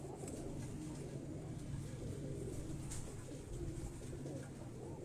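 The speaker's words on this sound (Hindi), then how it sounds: "ये सियालकोटी ब्रीड के ये कबूतर हैं" Sialkoti breed pigeons coo softly and repeatedly at close range, with low murmuring calls overlapping against a faint background hum and occasional light rustles.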